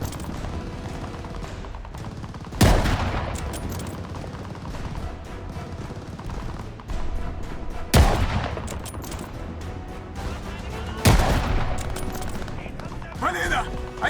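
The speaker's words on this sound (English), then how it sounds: "we need cover fire!" Gunfire in the WWII shooter Call of Duty: Vanguard, with three heavy, loud blasts standing out over a continuous rattle of distant automatic fire and battle clatter. Shouted voices are heard now and then through the fighting.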